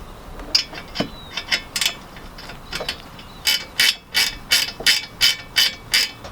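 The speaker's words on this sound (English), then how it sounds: "use your 15mm spanner to tighten it back up" A ratchet spanner clicks in quick bursts while tightening exhaust bolts with a 15mm spanner, a few scattered strokes and then a steady run of about nine even clicks close by, with no talk.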